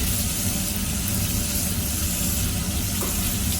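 Meat searing in a hot Dutch oven, a loud, constant close-up sizzle and crackle of fat that holds steady throughout without any voices.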